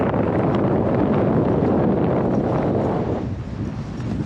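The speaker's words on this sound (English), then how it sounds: "it's blowing a gale" Gale-force wind roars loud and steady across a mountain ridge on the Ring of Steel, buffeting the microphone with a dense, continuous rush that eases slightly near the end.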